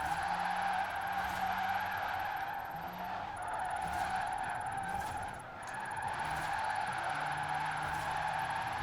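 A fully electric drift car in Forza Horizon 4 skids continuously with a sustained tire screech and a faint high electric whine, the squeal dipping briefly a few times.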